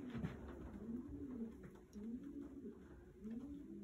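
A racing pigeon coos softly in repeated low, rolling phrases, fairly faint and steady, with no talking.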